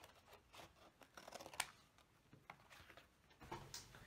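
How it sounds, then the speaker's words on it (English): Scissors cut rough bubble outlines around paper shapes for an owl collage, giving a faint, steady run of soft snipping and rustling paper close by with no talking. "I'm going to bubble cut around them first."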